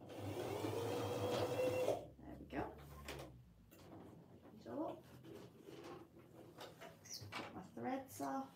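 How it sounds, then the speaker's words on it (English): A sewing machine stitches along a marked line on fabric while binding is being made, humming steadily for about two seconds before stopping; a person then talks over light handling noises. "I'm just going to sew along that line."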